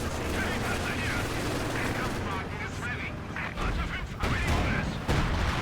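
Bursts of machine-gun fire and other gunfire in a Company of Heroes 2 battle, dense and continuous under a busy mix of combat noise.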